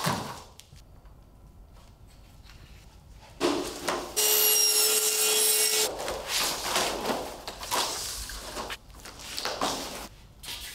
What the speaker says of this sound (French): Tu peux diviser le tablier en petites parties et découper avec la scie à rabattre.